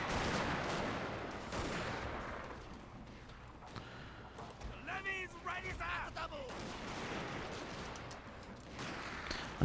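Gunfire in a Total War Shogun 2 battle, a distant rolling crackle of musket volleys mixed with game sound effects and a brief whistling tone, heard under a man's speech.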